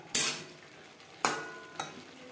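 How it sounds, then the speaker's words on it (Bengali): Cauliflower being stir-fried and mixed with spices in a pan, with three distinct scraping stirs, the first two strong and the last lighter, each followed by a soft sizzle, close up and with no talking. "মশলার সাথে ফুলকপি বেশ ভালো করে মিক্স করে দেবো।"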